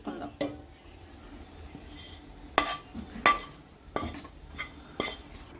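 Roasted grated coconut is scraped from a pan into a bowl, giving a series of sharp metallic clinks and knocks spaced a second or so apart, with quiet between and no voices.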